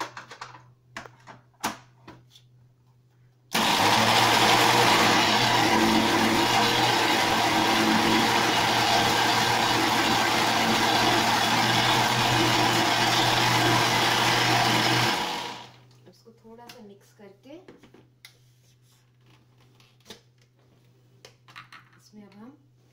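A kitchen blender whirs steadily for about twelve seconds, loud and continuous, blending banana and strawberry into a smoothie, then cuts off abruptly; someone talks softly before and after it runs.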